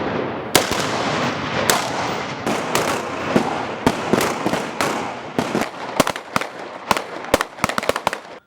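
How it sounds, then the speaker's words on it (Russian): Pistols and automatic weapons fire at targets on a range during a military training demonstration. Sharp reports crack out irregularly, single shots mixed with quicker bursts that grow denser toward the end, loud against a rough outdoor background. "Бойцы демонстрируют способы ведения стрельбы на различных дистанциях из пистолетов и автоматического оружия."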